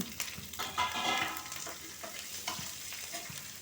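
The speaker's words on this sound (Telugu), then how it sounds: "ఇగో పోపు వేసాను కదా, ఇగో ఇప్పుడు ఉల్లిపాయ వేసేద్దాం." Onions tossed into hot tempering oil for a tomato charu crackle and sizzle steadily at moderate volume, punctuated by a few scraping stirs.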